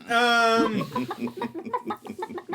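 A person imitates a chicken, voicing a drawn-out squawk followed by a quick run of rhythmic clucks, close and fairly loud, with no other talk.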